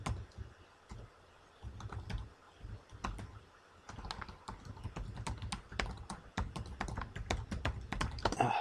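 Fast, close keyboard typing on a computer, bursts of crisp key taps with short pauses between runs of keystrokes and an occasional louder clack, with no talking over it.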